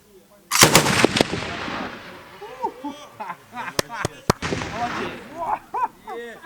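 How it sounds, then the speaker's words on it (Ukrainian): A loud gunshot cracks out near the start, followed by several sharp reports and booms, with people talking and shouting in between, at a military mobilization training site in Mykolaiv region, Ukraine. "Постріл!"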